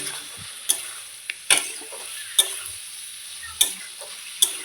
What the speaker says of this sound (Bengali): মশলাগুলো ভালো করে ভেজে একটু কষা কষা হলে